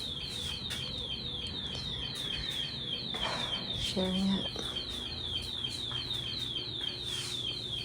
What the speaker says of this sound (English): Don't know why that alarm's going off.